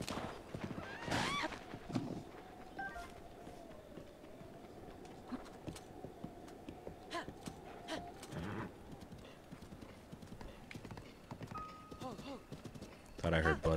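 A horse in a video game gallops with rhythmic clip-clop hoofbeats and lets out several whinnies, while a person talks over the game sounds.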